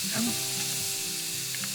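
Pork sizzles loudly and continuously on a hot Thai moo kata barbecue grill pan, a dense close hiss with a faint steady tone underneath.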